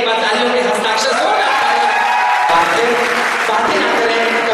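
Audience applause at an evening poetry recital (kavi sammelan) in Sirsa, a dense, steady wash of clapping from a large crowd filling the whole stretch without pause.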